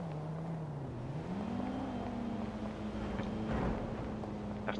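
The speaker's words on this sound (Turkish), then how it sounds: "Araba sesi var ya." Car engine in the GTA V video game, a steady low idle hum that rises slightly in pitch, fairly faint under background ambience.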